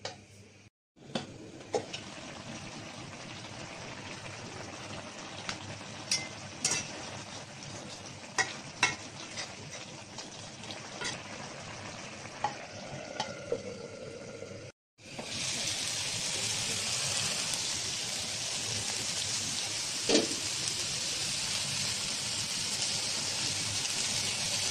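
Small puti fish frying under a lid in a pan, a steady crackling sizzle with scattered sharp pops, which briefly cuts out near the middle and then comes back louder and denser.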